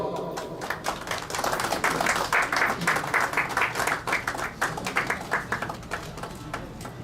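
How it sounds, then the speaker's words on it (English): Applause breaks out from an audience at a farewell gathering held by Indian community volunteers, many hands clapping steadily and close by, swelling and then thinning toward the end. "Please, big round of applause."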